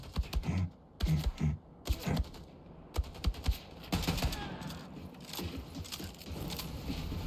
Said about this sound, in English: We're gonna shoot these guys because I would like to live.